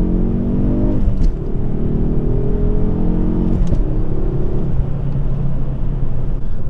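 Stock Ford Focus ST engine revving hard through quick downshifts, a loud, steady drone whose pitch climbs and drops, with sharp rev blips at about one second and again near three and a half seconds.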